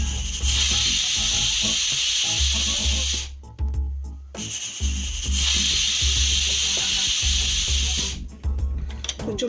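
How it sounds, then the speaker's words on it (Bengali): A pressure cooker on a gas stove whistles and vents steam in loud, broad hissing bursts, cutting out briefly twice before resuming, with kitchen clatter underneath. "দিয়ে আবার 2টো আমি সিটি দেব"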